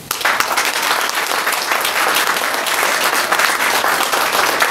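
Sustained applause from a seminar audience fills the room, dense and steady clapping from many hands holding at an even level throughout, with no voices over it.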